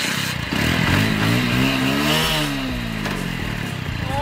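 Motorcycle fitted with a giant tractor tyre, its engine loud and close, idling roughly and then revving up and down in steady surges with a clattering undertone.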